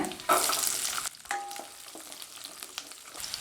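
Loud sizzling and crackling of garlic and shallots frying in hot oil, bursting strongly at first and then settling into a steady, quieter sizzle.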